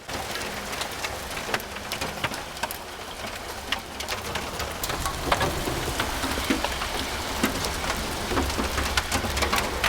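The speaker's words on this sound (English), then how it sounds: "It's hailing on me." Hail falling outdoors during site prep for a farm pond, a dense crackle of small hard ticks and pelting impacts that builds slightly over the stretch, close and steady with no speech.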